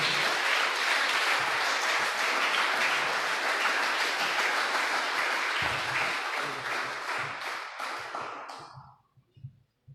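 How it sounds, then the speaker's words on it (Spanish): During an evening worship service, a congregation gives sustained, vigorous applause to the Lord, a thick wash of clapping that holds steady for most of its length before thinning into a few scattered claps and silence. "Bríndele un fuerte aplauso al Señor."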